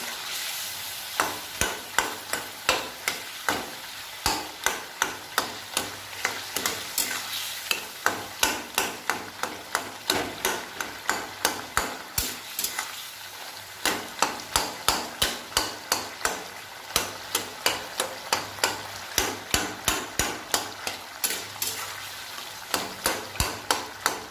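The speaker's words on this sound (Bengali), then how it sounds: "এবার এটাকে ভালো করে নাড়তে হবে" A spatula scrapes and knocks rhythmically against a pan as potol ghonto, a pointed gourd curry with raw milk and sugar, is stirred, repeated sharp taps over a low simmering sizzle, close and steady with no speech.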